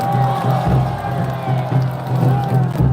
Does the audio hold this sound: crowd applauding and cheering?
yes